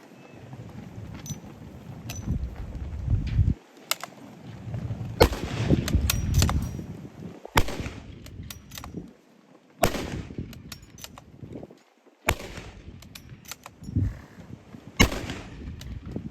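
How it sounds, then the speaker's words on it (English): Five shots from a 30-40 Krag-Jorgensen bolt-action rifle fired rapidly from its internal magazine at an Army firearms demonstration, loud sharp outdoor reports spaced a few seconds apart with the rattle of the bolt between them. "Five shots, bolt action from the internal magazine on the Krag Jorgensen"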